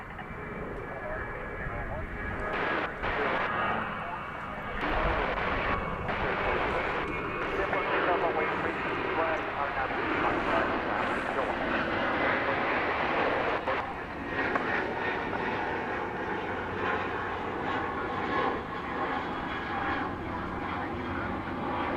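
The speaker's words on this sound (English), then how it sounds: "we've got Volaris Flight 801 going off to Mexico City. It'll be an Airbus A320. Getting ready to take off." A Volaris Airbus A320 taking off at night from DFW airport, its steady broadband jet roar heard from a distance beneath continuous talking.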